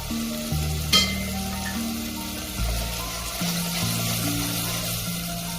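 Coriander fries in oil in a pan for chicken handi, giving a soft, steady sizzle beneath sustained background music tones, with a brief sharp clink near the start.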